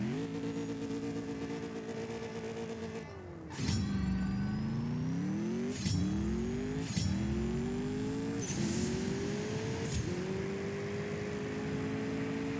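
A TVR Sagaris runs a drag race in the CSR2 game: the engine revs up hard, drops briefly at each gear shift and climbs again, a loud continuous howl with several clear shift breaks and no talking.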